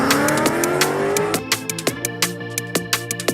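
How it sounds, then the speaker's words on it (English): A bus in Roblox's Build a Boat races along with a loud revving engine that drops away into a series of sharp, repeated clanks and thuds, tires squealing amid the rhythmic bumps. "Isn't this bus so fast?"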